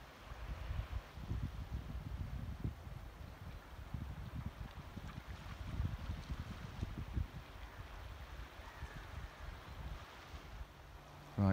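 A tidal bore surges through a channel at Arnside, a low rushing roar of moving water mixed with buffeting wind on the microphone, fairly faint and continuous.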